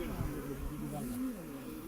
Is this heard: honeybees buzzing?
yes